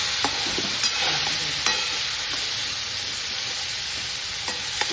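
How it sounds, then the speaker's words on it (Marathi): Potato pieces fry in a pan while being stirred, making a steady, loud sizzle with scattered scraping clicks from the stirring, close and continuous. "आपण चिरून घेतलेल्या बटाट्याच्या फोड्या टाकायच्यात. त्यानंतर ते हलवायचे."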